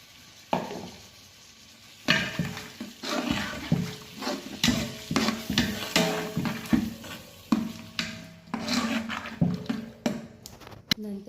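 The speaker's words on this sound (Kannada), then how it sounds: "ಖಾರದ ಪುಡಿ ಮತ್ತು ಹುಣಸೆ ಹುಳಿನ ಹಾಕ್ಕೊಂಡು ಚೆನ್ನಾಗಿ ಮಿಕ್ಸ್ ಮಾಡ್ಕೊಳ್ಳಿ" A bisibele bath mixture with chili powder and tamarind is stirred in a pan. Continuous scraping strokes and soft sizzling repeat steadily at close range, with no voices.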